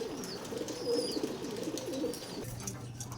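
Racing pigeons coo steadily in a low, rolling, repeated rhythm, close and moderately loud, with faint high bird chirps above and no talk.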